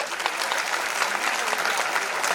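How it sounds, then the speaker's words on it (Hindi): An audience at an award ceremony in Indore breaks into loud, dense applause, a continuous roar of clapping hands filling the room with a faint murmur of voices underneath. "तो आप सबसे पहले अपने लिए एक बार जोरदार तालियां बजाएं।"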